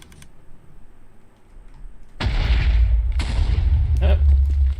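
TNT blocks detonating in Minecraft, a sudden loud explosive roar followed by a second blast and rumbling debris, close and heavy over a quiet game backdrop.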